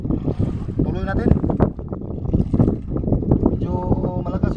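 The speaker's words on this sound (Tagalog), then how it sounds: "Medyo malakas yung hangin." Strong wind buffets the microphone in continuous gusts, roaring over choppy open sea while fishing, as people speak intermittently underneath.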